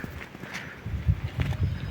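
Soft, irregular hoof thuds of a horse walking nearby, muffled against a low background rumble.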